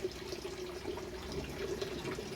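Warm water filling a tray to soak Jiffy peat pellets for seed starting, a quiet, continuous running-water trickle with a faint steady tone and no talk.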